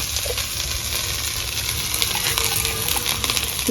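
Potatoes seasoned with salt, turmeric powder and green chilli fry in a pan with a dense, steady sizzle and faint stirring scrapes, loud and close throughout with no talk.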